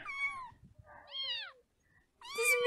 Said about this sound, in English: Can you meow for me?